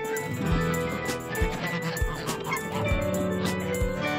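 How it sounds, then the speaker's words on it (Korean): Geese on a farm honk in repeated short calls at a steady rhythm, close and fairly loud, layered over other barnyard fowl noise. "안 그래도 오지랖 넓은 거위들은 새로운 친구의 등장에 경계가 아주 심하다."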